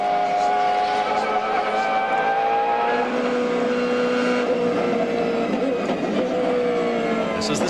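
A BMW M3 GTR race car in a 2001 American Le Mans Series race, heard onboard: a loud, continuous high-revving engine whine climbing and dropping through gear changes, with a commentator talking over it.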